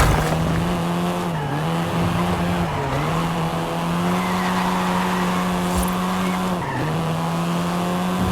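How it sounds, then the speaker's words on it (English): A Volkswagen Golf R, the seventh-generation Golf, drives in Forza Horizon 5, its engine holding a steady loud drone with brief dips at gear shifts and a short tire squeal, alone without talk. "This version is the Volkswagen Golf R"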